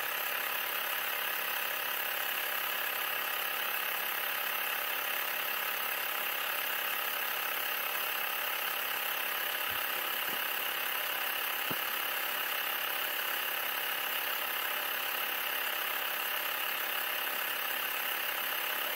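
An air compressor with its pressure switch set to 2.4 bar runs continuously with a steady mechanical hum and whine that holds an even level throughout, broken only by a couple of faint clicks near the end. No voices are heard.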